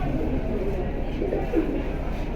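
Pigeons cooing softly at a loft where pairs are kept, low murmuring coos under a constant dense background hum, with a faint voice nearby.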